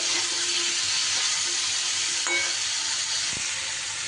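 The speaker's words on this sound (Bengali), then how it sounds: "নুন আর হলুদ দিয়ে খুব ভালো করে সবজিটা আমি নাড়াচাড়া করে কিছুটা সময় ভেজে নেব" Ridge gourd and other vegetables fry in a pan with salt and turmeric, giving a constant loud sizzle with steady hiss, broken by a couple of faint scraping clinks from stirring.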